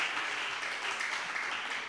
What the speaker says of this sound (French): La prophète Jérémie Esther, on acclame le Seigneur pour elle.